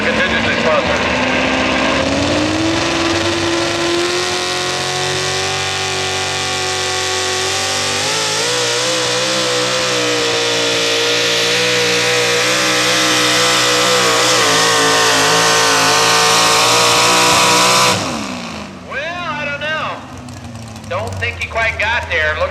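A modified 4x4 pulling truck engine roars at full throttle for about eighteen seconds, loud and sustained with rising pitch, at a truck pulling event, then cuts off abruptly, leaving crowd noise and an announcer talking.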